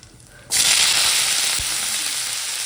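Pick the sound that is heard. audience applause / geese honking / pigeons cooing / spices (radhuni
spices (radhuni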